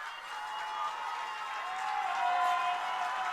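A Braden River High School football crowd cheers from the stands as a field goal try is set up in overtime, a steady distant roar that swells slightly toward the end.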